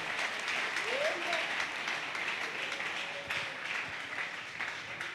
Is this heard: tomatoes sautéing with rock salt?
no